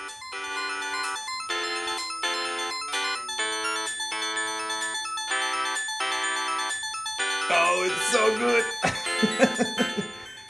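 Chiptune-style music from the Megalomania video game plays on a vintage Toshiba 220CS Satellite Pentium laptop, with bright, steady synth tones in repeating blocks, then a busier, noisier passage near the end where a voice seems to come in.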